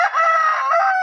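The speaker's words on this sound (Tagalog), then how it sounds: "Manok." A rooster crows once in a drawn-out, strained call lasting about a second, loud and close with no other sounds around it.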